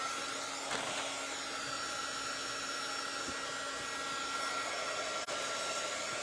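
A hair dryer blows steadily over a freshly made craft sign, a continuous close whooshing hiss with a faint tonal whine, holding level for several seconds with only small bumps and no talking.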